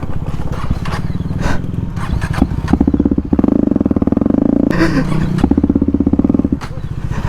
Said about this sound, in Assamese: এতিয়া এক্সজষ্টটো অভাৰ লাউড হৈ আছে ন